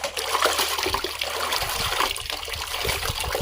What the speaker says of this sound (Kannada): ಮೀನು ಕಟ್ ಮಾಡಿ 2 ಸಲ ತೊಳೆದಿದ್ದೀವಿ. 3ನೇ ಸಲ ತೊಳ್ತಾ ಇದ್ದೀವಿ